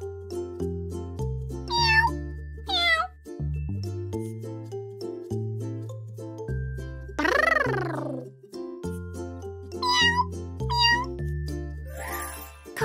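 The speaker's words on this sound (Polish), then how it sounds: "Kot." A domestic farm cat meows repeatedly, several distinct rising-and-falling calls spaced through the clip over a bouncy children's music backing, loud and close.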